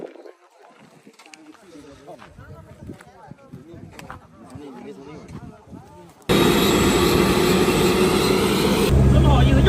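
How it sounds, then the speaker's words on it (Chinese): A helicopter engine starts up loud and steady after several seconds of talking, a dense, constant roar that fills the rest of the clip. "这一套系统肯定是直升机的发动机了"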